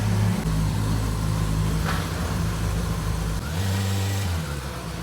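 A close inline-four 450RR motorcycle engine idling and revving, its low throaty tone rising and falling with a couple of throttle blips.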